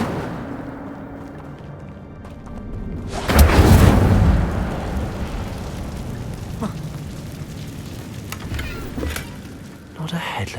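Incendio fire spell cast in Hogwarts Legacy, a sudden loud whooshing burst of flame that swells and fades into a lingering crackling rumble over ambient game sound.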